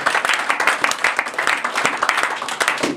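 Church congregation applauding for the Lord, a dense, loud burst of many hands clapping together in a continuous patter, close and lively throughout.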